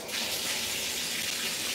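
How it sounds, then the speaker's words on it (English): Running water pours steadily onto hair being wet for a wash, a constant, fairly quiet hiss of flowing water close by with no talking. "I'm about to wet my hair,"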